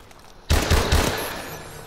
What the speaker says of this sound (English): he has an assault rifle.